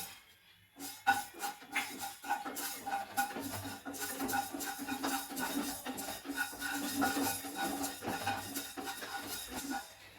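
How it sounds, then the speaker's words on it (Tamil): Fenugreek seeds are dry-roasted and stirred in a pan for mango pickle, giving a continuous soft scraping and rattling of seeds and utensil against metal. The sound is quiet and close, with no talking. "இப்போ வெந்தயத்தை வறுத்து எடுத்துக்கணும்"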